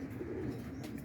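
Boston ripping roller pigeons coo close by, a low, soft, rolling murmur that holds steady, with a brief faint rustle near the end and no talking.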